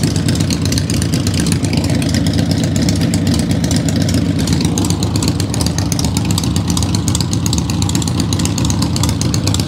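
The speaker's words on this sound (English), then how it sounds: "This might take a couple cranks." A vehicle engine in a cold-start check after winter storage idles steadily and loudly with a constant low rumble throughout. No distinct cranking burst stands out.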